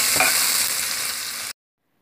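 Fish going into a hot pot of roucou (achiote) seasoning for a stew, giving a loud, steady sizzle that runs without talk for about a second and a half, then cuts off abruptly.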